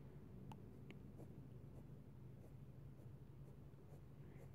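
A sharp graphite pencil drawing fine lines and small cracks for a labradorite gem illustration, a soft continuous scratchy scraping with faint light taps, close and steady throughout with no talking.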